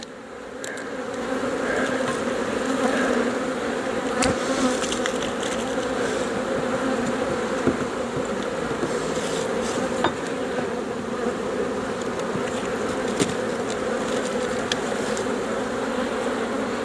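Honeybees in an open horizontal hive during an inspection, a dense continuous drone close by with occasional faint knocks and clicks from handling the frames, no voices.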